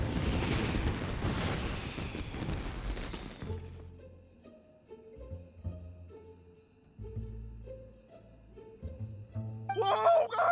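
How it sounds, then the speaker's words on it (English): Fireworks bursting in Genshin Impact: a few seconds of loud crackling, booming explosions give way to soft melodic chimes and tones, then a sharp sparkle returns at the end. "Yoimiya, this is turning into a bit of a fireworks display."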